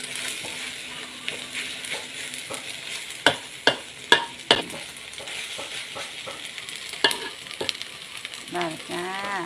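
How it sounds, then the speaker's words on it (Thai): Tomatoes and shallots frying in oil, a steady bright sizzle broken by a cluster of sharp spatula scrapes and clacks against the pan, close and fairly loud. "จะทอดแซ่บมะเขือเทศกันด้วยแค่หอม"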